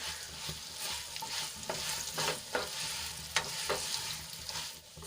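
Pieces of leftover roti sautéed in a sesame-seed tempering of hot oil, stirred steadily until crisp; a continuous sizzle with repeated scraping strokes of a spoon through the pan, close and moderately loud, no talking.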